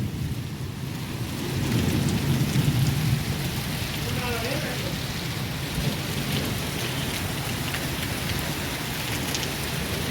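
A heavy stormy rain with hail and thunder, a constant close roar of water hitting surfaces with deep rolling rumbles, and faint voices now and then underneath.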